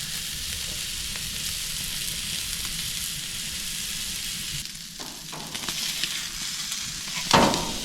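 A steak sears in a hot pan with a loud, continuous crackling sizzle that dips midway and then resumes, broken by a few clatters of handling near the end.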